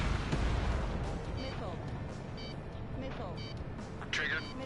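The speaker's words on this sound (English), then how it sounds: "Missile away." A fighter jet fires a missile in Ace Combat 7, heard as a booming launch rumble amid dense jet engine roar and explosions, with brief higher whooshes cutting through near the end.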